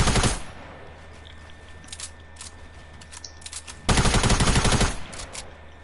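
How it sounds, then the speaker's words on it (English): Two short bursts of rapid video game gunfire, one at the very start and a louder one a few seconds later, separated by quiet in-game ambience, with no voices. "Kid, you're shooting me down."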